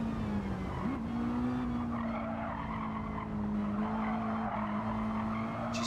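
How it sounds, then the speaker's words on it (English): Tyres squealing and skidding in Gran Turismo 7 as a sports car on sports tyres loses grip on corner exits: a sustained, steady tonal squeal with slight pitch wobbles over engine rumble, continuous and fairly close. "as the tyres just lose a little bit of adhesion on the exits"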